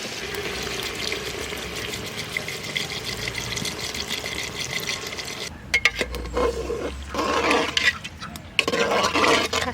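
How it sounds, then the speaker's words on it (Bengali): Water poured into a pot of mutton that has been browned for a village-style mutton handi, a steady liquid rush with splashing and clattering against the pot, heavier toward the end. "কষানো হয়ে গেছে, এবার জল দিয়ে দেবো।"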